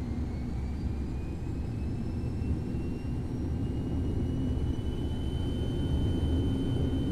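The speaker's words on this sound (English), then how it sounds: "There we are, set takeoff thrust." Boeing 737 jet engines at takeoff thrust in the IXEG 737 flight simulator, a loud, steady roar with a broad rumble and a thin rising whine, continuous and alone.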